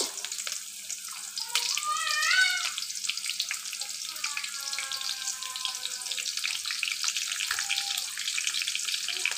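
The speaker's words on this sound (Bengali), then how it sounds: "এখন আমি দিয়ে দিচ্ছি কোচানো পেঁয়াজ" Chopped onions hit hot oil with fennel seeds in a pan for a Bengali stinging catfish curry, a steady loud hiss and sizzle that holds for the whole stretch, with no talk over it.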